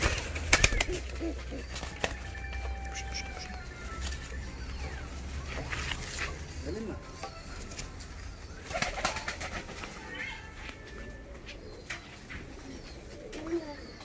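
Fancy pigeons cooing and shuffling inside their coop, soft repeated coos with occasional wing flaps close by, under a steady low background hum.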